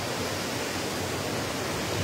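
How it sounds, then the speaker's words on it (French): The Cascade des Combes waterfall on the Abîme stream near Saint-Claude gives a steady, dense rush of falling water, close and even, with no voices. "à la cascade des Combes"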